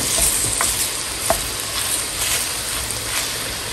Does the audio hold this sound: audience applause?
no